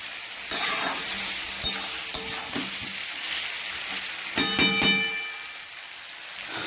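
Amla, Indian gooseberry, frying in a pan, a steady close sizzle broken by scattered spatula scrapes and taps, no voices.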